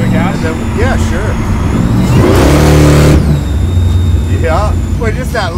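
A heavily modified 1200 hp Volvo's engine gives one short rev in the middle, rising and falling quickly, with people chatting before and after.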